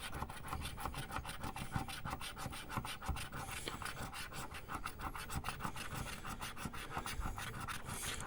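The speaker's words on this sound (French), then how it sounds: "On va le gratter entièrement pour vérifier." A scratch-off lottery ticket is rubbed steadily, producing a continuous close rasping scrape with quick back-and-forth strokes at a fast, even rhythm throughout.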